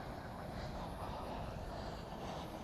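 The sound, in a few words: American Airlines Airbus A321 arriving at DFW Airport at night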